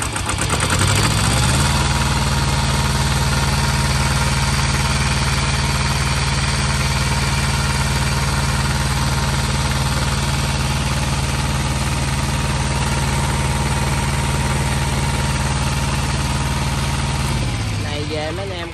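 A 5 kW household generator engine runs loud and steady with a deep droning hum, starting up at the beginning and winding down near the end.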